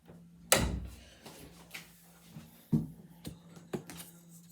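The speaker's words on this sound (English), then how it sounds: "I'm going to shut my door here" A door is pushed shut with one loud close thud, followed by a few quieter knocks and latch clicks nearby in an otherwise quiet indoor room.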